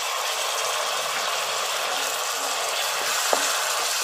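Tomato puree sautéing in a pan with turmeric and asafoetida, a steady loud sizzle and hiss throughout with a faint clink near the end.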